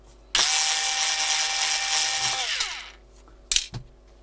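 A power screwdriver backing screws out of a MOTU 24 i/o audio interface: a loud, close whirring run of about two and a half seconds that winds down, then a sharp clack and rattle of small screws.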